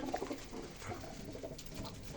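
A pigeon coos softly and repeatedly in a low, throaty murmur, fairly close, with a steady hiss of background noise and no talking.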